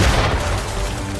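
Ship cannons firing during a naval battle in the video game Assassin's Creed 3, a dense rumbling barrage of booms and blasts that fills the whole moment, loud and close without a break.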